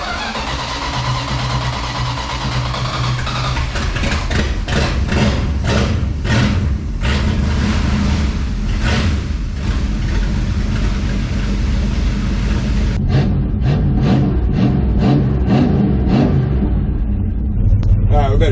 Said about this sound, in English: I thought we'd take this opportunity to do a little cold start.